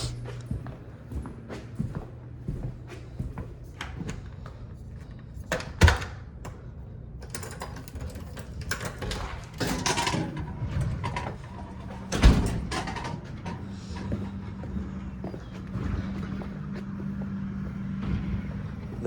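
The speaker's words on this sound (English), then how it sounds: "trash pickup truck." Garbage truck collecting trash cans on a residential street on a cool morning, with uneven clunks, bangs and mechanical rattling over a low engine rumble at moderate distance.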